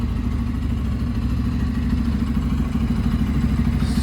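A motorcycle under a novice rider runs at a low, steady idle-like chug nearby, the engine thrumming evenly with a faint clattering texture and no talk.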